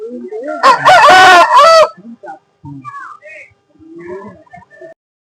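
A rooster at the Peeleru poultry market lets out one loud, close crow lasting about a second, followed by quieter scattered clucks and faint market sounds.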